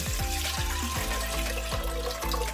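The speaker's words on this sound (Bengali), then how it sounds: "প্রথমে আমি চিকেনের এই টুকরোগুলো দিয়ে দিচ্ছি, দিয়ে এরকম মগের 1 মগ জল দিয়ে দিচ্ছি।" A full mug of water poured into a pot of chicken pieces for soup, giving a continuous close splashing gush that runs steadily throughout with no talk.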